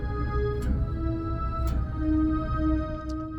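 Boss SY-200 synth pedal on a high octave strings setting, fed directly without other processing, giving sustained, steady synthetic string tones with soft held notes and a few faint attack clicks, played alone at moderate level.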